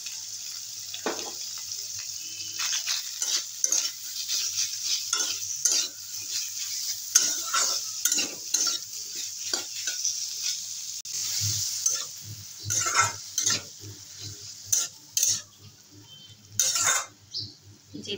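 Cabbage with gourd shoots sizzles gently in a pan while a spoon stirs it, producing repeated scraping strokes and clattering in an irregular rhythm over a faint low hum.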